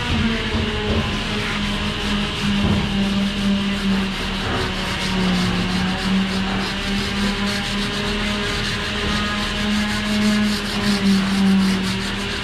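A worker sands a wooden lid made of giáng hương wood, a steady, loud, continuous rubbing scrape running unbroken throughout with a low hum beneath.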